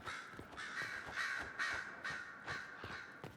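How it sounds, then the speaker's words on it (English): Crows caw repeatedly in the video game Dragon Age Inquisition at Skyhold, several harsh calls in an uneven rhythm, moderately loud against a quiet background. "So many birds."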